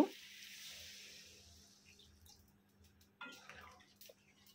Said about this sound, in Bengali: আর এখন পরিমাণ মতো জল দিয়ে দেব।